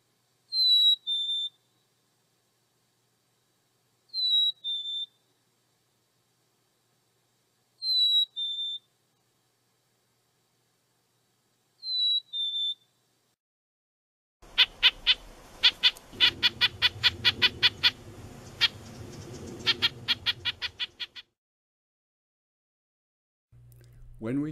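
A recorded bird call repeats four times at even intervals, each a short high two-part phrase with a slight break, clear and alone against silence, followed by a denser burst of rapid bird song with low rumbling underneath.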